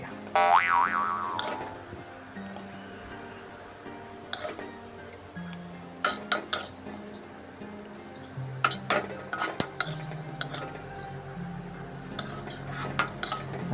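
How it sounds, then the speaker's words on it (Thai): Crispy fried catfish stir-fried with holy basil being spooned onto a plate, with repeated clinks and scrapes of utensils against crockery in bursts over a soft musical background. "มา ตักใส่จานครับผมหิวแล้วครับวันนี้"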